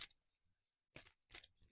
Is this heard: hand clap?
no